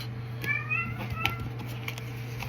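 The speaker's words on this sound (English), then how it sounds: "My cat said yeah." A house cat gives a few short meows over a steady low mains hum, fairly close and moderately loud, with no talking.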